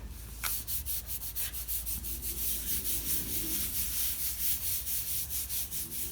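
A glued cover of a handmade DIY journal is rubbed down by hand, giving a quiet run of rhythmic scraping strokes, close and steady, with no talk.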